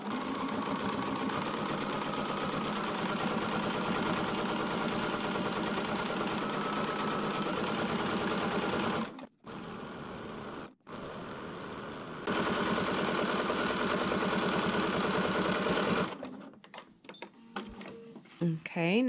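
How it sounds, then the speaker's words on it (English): A sewing machine with a walking foot stitches a quilted pillow backing seam just over a quarter inch from the edge, a steady close mechanical whir that runs for most of the span with a couple of brief pauses before stopping near the end. "I'm kind of just using my walking foot, and I picked a place on there. It's actually just a little bit over a 1/4 inch, and I'm just going to sew right down along that"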